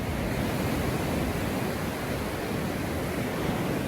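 Small waves pounding steadily in a calm North Pacific bay sheltered by a mountain ridge, a continuous broadband wash of surf at close range with no pauses and no voices.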